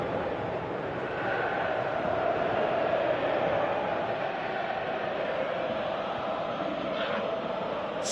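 Stadium crowd in a PS4 football video game, a continuous roaring wash of spectators that swells slightly and holds steady throughout, with no clear speech over it.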